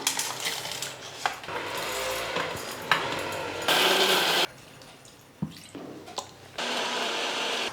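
A mixie jar grinds pirandai (adamant creeper) chutney with rock salt in short bursts: a loud rattling whir starts and stops abruptly, with clinks and quieter gaps between runs.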